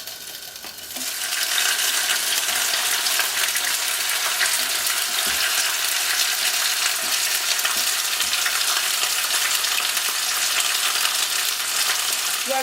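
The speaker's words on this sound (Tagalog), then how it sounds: "We are going to brown off the rabbit meat, guys, for 4 minutes." Rabbit meat browns in hot vegetable oil in a preheated pan for a Thai rabbit curry, giving a loud, steady hiss and crackle that starts abruptly and then holds evenly, with no voices.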